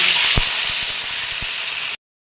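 Ingredients with garlic and chili stir-fry in a hot pan, giving a steady, close, bright sizzle that cuts off abruptly after about two seconds.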